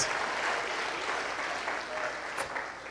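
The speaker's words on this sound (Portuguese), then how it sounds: "Aplauda bem alto o nome de Jesus." Loud congregational applause during a Sunday morning church service, a dense continuous wash of clapping filling the room without pause.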